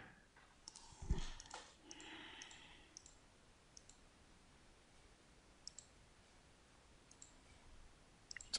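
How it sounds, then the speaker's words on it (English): Soft computer mouse clicks confirming prompts in a Magic: the Gathering game, a few scattered quiet taps spaced irregularly against near silence. "It's actually less effort for me to continue clicking yes."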